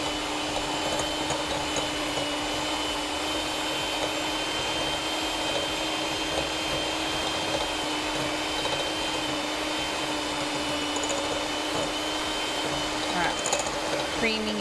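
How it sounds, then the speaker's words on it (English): Electric stand or hand mixer creaming butter and sugar for a cake, a steady, continuous motor whir with a fixed hum running the whole time at even loudness, no talk over it. "Creaming your butter and sugar together."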